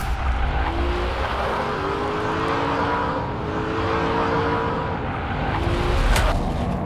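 Aston Martin DB10 Bond car sliding through a hydraulic handbrake turn, with sustained tire squeal and engine roar running steadily and loudly for several seconds, swelling slightly near the end.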